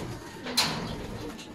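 Grizzle racing pigeons give a brief, soft coo close by against a low background hum, with no other sounds standing out.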